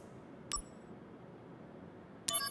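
A phone message notification chime from the video game Crisis Core Final Fantasy VII rings twice, each a short bright ding with a ringing tail, over a quiet background.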